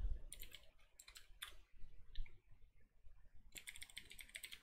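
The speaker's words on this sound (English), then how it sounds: "a lot of this is just typing the same stuff again and again" Fingers type on a mechanical computer keyboard in quiet, uneven bursts of soft clicking with short pauses between them, faint and close.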